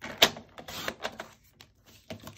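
Paper pieces cut to 2 3/4 by 6 1/4 inches for a 6x6 vintage winter mini album: one sharp close snip, then softer clicks and rustles of handled paper, with no voices.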